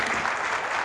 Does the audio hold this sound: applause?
yes